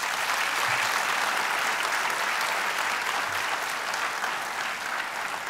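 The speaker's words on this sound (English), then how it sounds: "I think a big round of applause for that." An audience applauds after a lecture on science and innovation in India: dense, continuous clapping at an even level that fills the room for several seconds, with no voices over it.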